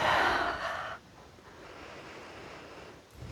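A breath during a yoga flow into high lunge: a strong, breathy rush up close that stops abruptly after about a second, followed by quiet room noise and a faint second breath.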